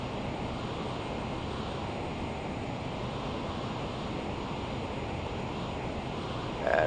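Steady, loud broadband roar inside a Learjet jet cruising at 3,500 feet during descent toward a gravel runway in Antarctica, unbroken throughout with a brief louder swell at the very end.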